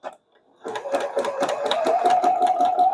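A sewing machine stitching out a machine embroidery quilt block starts up after a brief pause and runs steadily, its needle thumping in a fast even rhythm with a motor whine underneath, close and clear with no talk.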